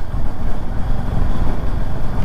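Steady low rumble of a motorbike cruising in fifth gear on a ride around Shimla, close and continuous, with heavy wind buffeting over the engine and no talk.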